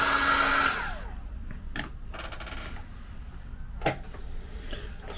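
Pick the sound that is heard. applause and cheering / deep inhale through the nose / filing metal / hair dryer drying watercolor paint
hair dryer drying watercolor paint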